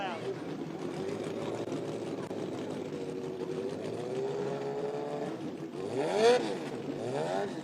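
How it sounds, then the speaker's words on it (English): V10 Formula 1 race car engines rev and roar in the background at a racetrack, with harmonic pitch sweeps rising and falling, beneath a crowd of talking voices. "you can hear those F1 cars in the background, flipping the throttle"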